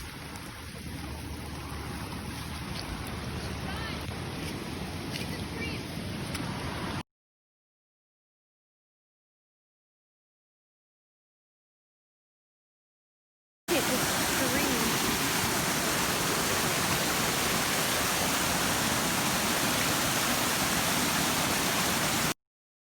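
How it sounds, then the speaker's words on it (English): Water pours out of an overflowing city street drain and floods across a driveway with a loud, constant rushing roar; the sound cuts out to silence for several seconds midway, then returns just as strong. "The street drain is completely filled up"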